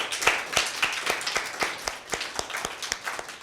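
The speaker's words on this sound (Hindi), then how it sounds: "जरिश के लिए भरपूर ताली।" An audience claps together at a Father's Day programme, a dense run of sharp, overlapping hand claps that keeps a fairly steady pace for the whole stretch at moderate loudness.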